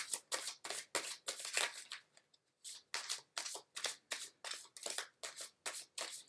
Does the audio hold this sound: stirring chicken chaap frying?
no